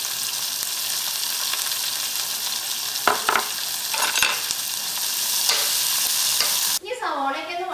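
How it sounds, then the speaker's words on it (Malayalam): Ginger, green chilli and curry leaves frying in hot oil for rava upma, a steady close sizzle with a few scraping stirs and a brief louder clatter near the end. "ഇഞ്ചി ചേർക്കാം. പച്ചമുളക് ചേർക്കാം. കറിവേപ്പില ചേർക്കാം."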